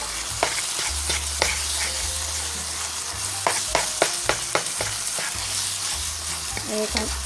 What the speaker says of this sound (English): And you're going to continue to cook the ground beef until it's all brown.